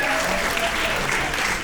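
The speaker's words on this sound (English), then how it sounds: "Clap it up for Dan." A studio audience applauds a man named Dan, steady dense clapping filling the whole moment at close range with no pauses.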